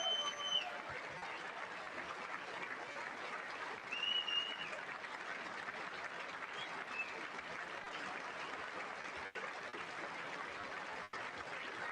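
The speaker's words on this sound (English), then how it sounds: "That might be the longest applause break of the night." Audience applause during a State of the Union address heard faintly at a distance, a long, steady wash of clapping from a large chamber, with a few thin tones drifting over it.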